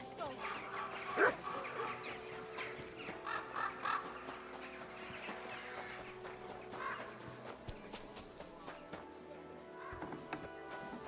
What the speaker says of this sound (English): Call back that dog.